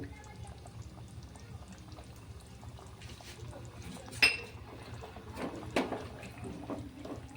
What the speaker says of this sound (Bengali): আর এখন আমি দিয়ে দেবো কিছুটা ফ্রেশ ক্রিম